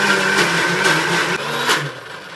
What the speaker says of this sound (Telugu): వీళ్ళైతే ఇప్పుడే మిక్సీ పడుతారు.